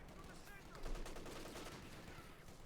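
Rapid flak cannon fire from a Flak Panzer in the Company of Heroes 2 battle game, a dense, steady burst of overlapping shots that runs without pause for a few seconds at moderate distance.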